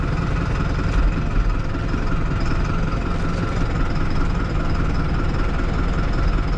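A 2021 TD100D tractor engine runs steadily while its automatic lift is working. The loud, continuous diesel rumble has a low vibrating throb that holds level throughout, with no speech.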